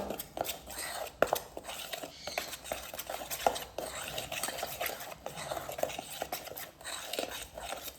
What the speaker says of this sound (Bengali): একটা চামচের সাহায্যে খুব ভালোভাবে মিশিয়ে নেব।